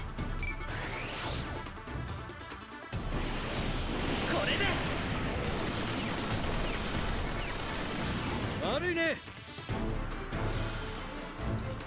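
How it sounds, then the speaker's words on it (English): In SD Gundam G Generation Cross Rays, the Cross Mega Beam Cannon fires as a loud, sustained blasting roar with crashing impacts and explosive bursts, amid game music and effects, with brief drops to quiet between. "The Cross Mega Beam Cannon."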